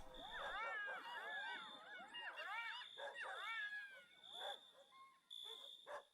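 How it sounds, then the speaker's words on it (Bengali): Several dogs bark, yip and howl at night, with overlapping wavering cries up close. A steady high whine sits underneath, and the calls fade in and out in bursts. "মাঝে মধ্যেই শিয়াল আর কুকুরের ডাক শোনা যাচ্ছে।"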